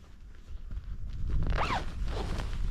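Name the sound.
zipping up a sleeping bag at a bivvy camp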